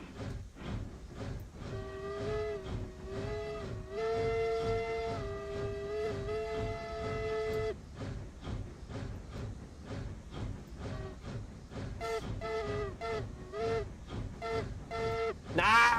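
A train whistle sounded in a railway game, with several long, tonal, quavering blasts over a steady rhythmic chugging of a moving train, followed by shorter toots near the end.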